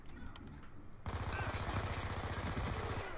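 Rapid automatic gunfire from a Call of Duty match bursts in loud and dense after a quieter second, with fast repeated shots continuing steadily to the end.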